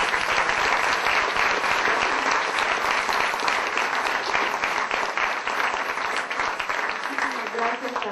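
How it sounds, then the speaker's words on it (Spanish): An audience at a conference on border security gives sustained, dense applause that stays loud throughout and thins slightly toward the end, with voices mixed in. "Vamos a darle un aplauso al doctor Luis."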